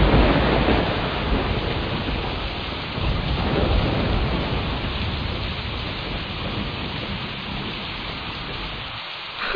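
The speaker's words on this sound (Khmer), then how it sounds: "មើលទៅភ្លៀងនេះងាយរាំងទេមេឃខ្មៅយ៉ាងនេះ" Heavy rain pours down steadily in a dark, stormy downpour, a dense continuous wash of noise with low rumbling beneath, loud and close throughout, with no voices.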